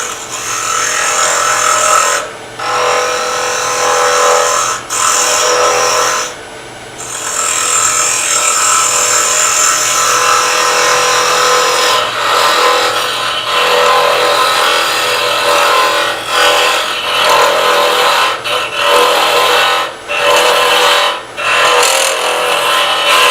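A hollowing tool cuts inside a small miniature piece spinning on a wood lathe, giving a steady, loud whirring grind that runs continuously, broken only by a few brief dips where the tool lifts off.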